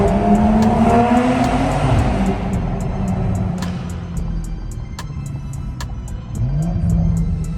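A 2021 Toyota Supra A90 with a dual Tomei titanium exhaust revs up and down close by, loud throaty engine sweeps rising and falling with sharp crackles and pops between revs.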